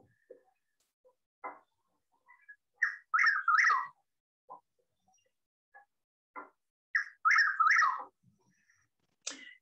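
Chuck-will's-widow calling in the Everglades at night, two clear repeated phrases of rising and falling whistled notes about five seconds apart, with short chuck notes between them and no talk.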